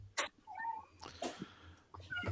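A house cat gives faint, thin meows and mews in a quiet indoor room, several short calls spread across a couple of seconds.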